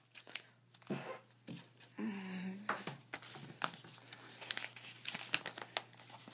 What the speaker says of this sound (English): This thing's taped up all the way around, so it's a little bit hard to cut.